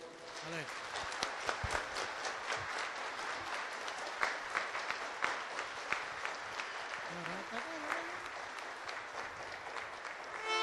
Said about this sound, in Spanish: Si aplausos para el Señor.